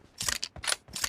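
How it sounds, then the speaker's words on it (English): Shotgun being reloaded in a team deathmatch shooter video game, with three or four quick, crisp mechanical clacks in close succession, faint and close, with no voices. "Reloading!"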